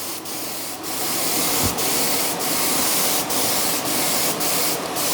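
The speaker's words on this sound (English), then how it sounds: "The reason it's not spraying very fast is because I've turned it right down." A Greco HVLP 9.5 paint sprayer turned right down sprays paint in a small workshop. It gives a steady airy hiss with brief periodic bursts, close and fairly loud, and no voices.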